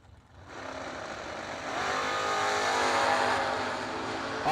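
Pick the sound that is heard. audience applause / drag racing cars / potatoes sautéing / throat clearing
drag racing cars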